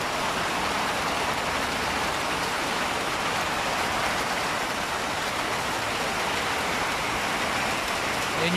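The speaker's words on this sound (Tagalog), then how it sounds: "Maulan ang ating klima." Rain falls steadily outside an office on a March evening, a dense, even hiss of drops on surfaces that holds constant throughout with no voices.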